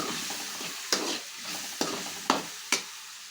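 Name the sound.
stirring spices into curry in a pan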